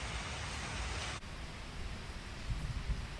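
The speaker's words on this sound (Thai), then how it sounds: "หน้าบ้านคือเก้าครับฝนตกครับ" Rain falling outside a house gives a steady, even hiss that drops abruptly to a softer, duller wash partway through, with no talk.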